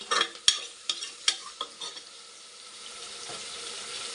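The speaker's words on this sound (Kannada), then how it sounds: "ಇದೊಂದು ಸ್ವಲ್ಪ ಫ್ರೈ ಆಗಬೇಕು." Greens fry in a pan for Hanumanth biryani, a soft steady sizzle with a few clattering stirs of the spoon at the start, then a quieter continuous frying hiss, close and without talk.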